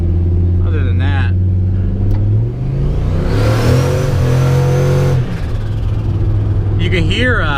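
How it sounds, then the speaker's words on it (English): Turbocharged car with a rumbly Flowmaster exhaust driving on low boost, steady engine drone rising into a revving surge midway, then dropping back to a steady rumble, loud and close. "it's a Flowmaster, so it has this stupid rumbly, you know, Flowmaster sound"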